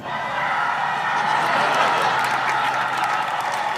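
An audience claps and cheers in a dense, continuous wash of sound that holds steady and loud throughout, with no clear individual voices on top.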